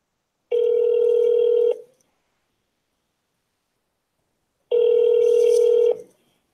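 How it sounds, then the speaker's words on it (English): Two long steady telephone tones, each lasting a little over a second with a gap of about three seconds between, play alone on a call that is being transferred. "Your call is being transferred."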